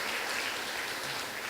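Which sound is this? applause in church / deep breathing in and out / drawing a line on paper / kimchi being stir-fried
applause in church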